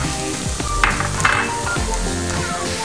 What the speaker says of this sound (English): I have the coconut oil in the saucepan getting ready to go. Now I'm gonna add all the vegetables and saute them.